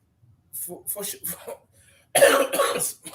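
A few short, harsh coughs break up a stretch of talk, followed by a louder, rougher burst of coughing or throat clearing near the end.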